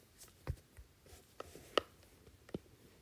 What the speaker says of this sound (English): you're probably gonna hear a lot of tapping